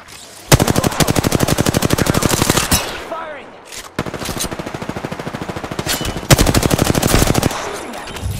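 Rapid automatic gunfire in the Apex Legends video game, several loud sustained bursts of evenly spaced shots separated by brief pauses, with faint in-game voice chatter.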